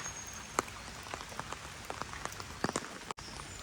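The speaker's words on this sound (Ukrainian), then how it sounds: "Навіть якщо йде дощ." Steady rain patters on surfaces outdoors at a park, a soft continuous hiss with scattered sharper drops, faint and distant-sounding with no voices.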